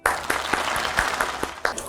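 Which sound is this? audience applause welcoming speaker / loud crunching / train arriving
audience applause welcoming speaker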